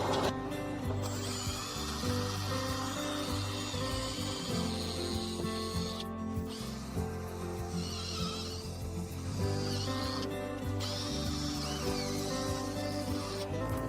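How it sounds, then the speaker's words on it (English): A power drill pre-drills holes through a drilling template into the door pillar of a 2017-onward VW Crafter van, giving a loud, continuous whining tone that runs close by for the whole stretch with small shifts in pitch. "We start by pre-drilling with a smaller ball."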